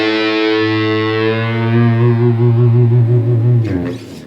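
Distorted electric guitar with effects sustaining a long note in a solo, starting on the fifth and bent slightly, the pitch wavering slowly under heavy distortion before cutting off with a brief noisy string scrape.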